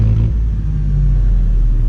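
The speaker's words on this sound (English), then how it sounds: "Somebody's fired up the tractor down there." A tractor started up in the village below a guest house in Jhong, Mustang, a loud, steady low engine rumble with a slight rise in revs early on and no voices.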